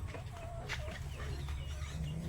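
Chickens cluck near a goat house under construction, a few soft clucks and calls heard faintly over steady low rumbling background noise.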